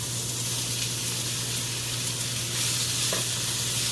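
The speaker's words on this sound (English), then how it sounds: "Hear that sizzle, sizzle, sizzle, sizzle, sizzle." Steady, hissing sizzle of asada meat frying in a hot pan, constant and close, with no talking.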